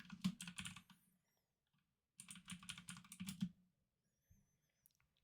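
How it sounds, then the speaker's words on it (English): A very loud computer keyboard clatters in two quick bursts of rapid keystrokes separated by a pause, with a few stray clicks afterward, close and crisp with no talking. "I got a really loud keyboard"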